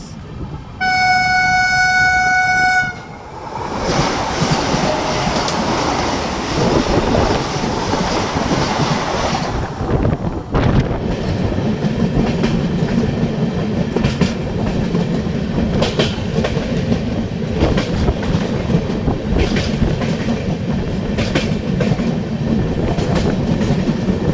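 The 22500 Deoghar Vande Bharat Express passes close by with a loud horn blast of about two seconds at the start, then a roaring rush of carriages and rhythmic wheel clatter that fills the rest.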